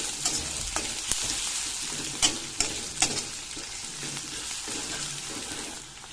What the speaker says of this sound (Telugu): ఉల్లిగడ్డలు బాగా గోలాల్సిన అవసరం ఉండదు, లైట్గా గోలినట్టు ఉంటేనే